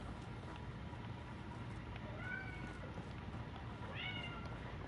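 Two short cat meows in Fallout 4, the second higher and more drawn out, faint against a low steady background hum.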